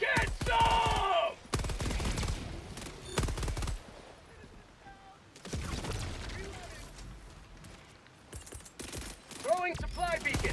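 Dense bursts of rapid gunfire in the Helldivers 2 video game, loud and sustained, with game dialogue and shouting voices mixed over the shooting and a few quieter lulls.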